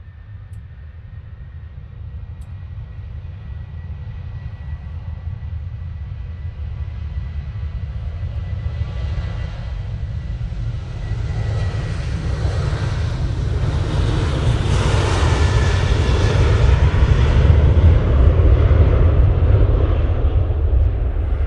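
A Boeing 787-9 Dreamliner jet at Manchester Airport, a broad low engine roar building steadily louder over about twenty seconds as it approaches, mixed with wind noise on the microphone.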